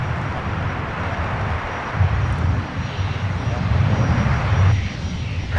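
An Airbus A330 from Copenhagen arriving at Minneapolis–Saint Paul airport, a steady broad jet roar that swells and fades slightly, heard from a distance at a busy airport with no talking.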